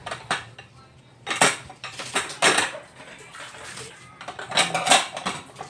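Dishes, pots and food warmers being washed, with cutlery and cookware clattering and clinking in repeated bursts between quieter running water and handling, close and moderately loud.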